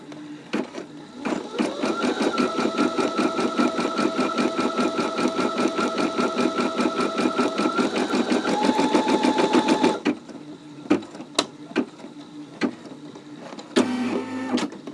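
A Brother SE625 embroidery machine stitches with a fast, steady mechanical chatter for about ten seconds, then stops, leaving scattered clicks and a short whirring burst near the end.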